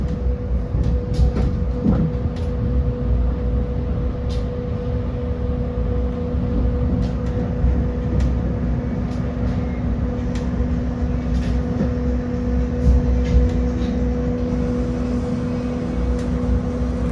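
A Batavia passenger train runs from Solo toward Yogyakarta, heard from inside the carriage as a steady low rumble with a constant tonal hum and occasional faint clicks and rattles, with no speech.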